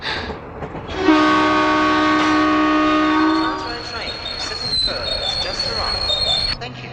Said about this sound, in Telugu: ట్రైన్ మళ్ళీ బయలుదేరుతుందండి.